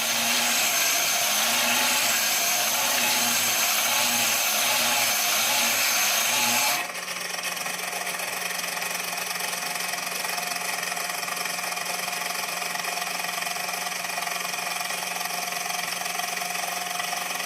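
A Kinkajou wet sander with a sanding disc runs continuously with a loud, steady motor whine, its pitch and tone shifting partway through as the load changes, with no voices.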